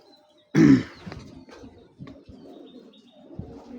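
A Pakistani Kamagar pigeon gives one loud, close coo near the start, then softer murmuring calls and faint rustling follow at a lower level.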